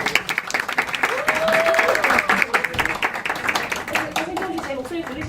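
An audience in a hall gives sustained applause to welcome a speaker at an education event, dense clapping throughout with a voice and some tonal sounds mixed in over it.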